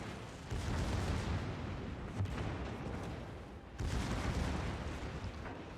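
Secondary guns on a warship in a naval battle game fire in a continuous rumbling barrage of booms, with a renewed loud burst of gunfire near the end, heavy and close.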